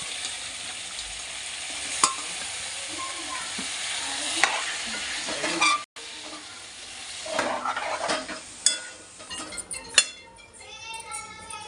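Chicken with turmeric is stirred in a frying pan for a fenugreek-leaf chicken curry, a soft sizzle under repeated spatula scrapes and clinks, with a brief drop to silence midway.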